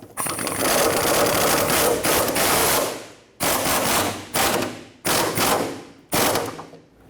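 Ratchet wrench snugging a fuel tank strap mounting nut on a 2006-2010 Hyundai Sonata, a loud close run of rapid clicking strokes followed by four shorter repeated bursts, with no talking.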